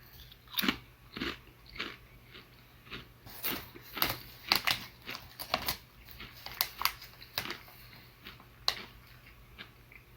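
Someone munches unusually flavored potato chips up close, a series of sharp crunchy bites followed by irregular chewing crackles over about ten seconds, with no talk.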